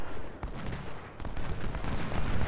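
Gunfire in Ultimate General: Civil War, a battle din of overlapping musket shots and cannon booms, crackling and thumping irregularly at moderate distance.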